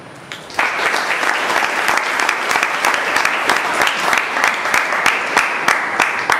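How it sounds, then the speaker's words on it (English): An audience breaks into applause for committee members at a weekly club meeting, a dense, loud burst of many hands clapping that starts abruptly after a brief pause and carries on steadily with scattered sharper claps. "A big round of applause"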